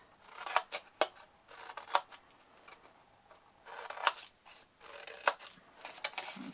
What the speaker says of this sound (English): We're going to cut the little squares into tabs. So just cut those notches out.